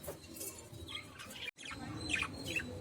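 Lovebirds chirping near their nest, bright high chirps and squeaks in a few short bursts, close and fairly clear over a soft background hum.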